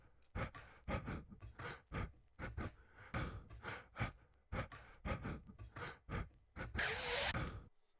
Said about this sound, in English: breath loop from Black Skinhead as well